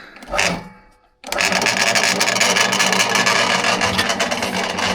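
A ROTEX-100 feed pellet mill used for calf feed pellets starts up after a short mechanical clatter and a brief pause, then runs as a loud, steady motor drone with dense grinding rattle.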